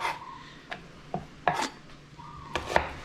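Knife slicing an onion on a cutting board: a handful of sharp separate cuts and taps spaced irregularly over a few seconds, close and moderately loud against a quiet room.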